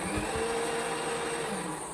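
A mixer grinder runs with water and cream in its jar, producing a loud, steady whirring motor drone for a couple of seconds without any voices.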